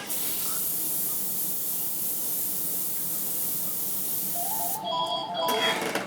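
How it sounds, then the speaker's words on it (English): Airbrush spraying water-based Auto Air paint while kept moving for fine detail: a steady, loud, close hiss of air that runs unbroken for several seconds, then cuts off at the end amid faint clicking. "keep the airbrush moving"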